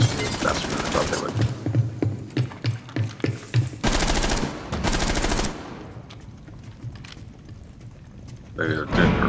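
Bursts of automatic gunfire from a Rainbow Six Siege match crackle in rapid rhythmic volleys, loud and close, then give way to scattered shots and quieter game sounds, with players talking over the action.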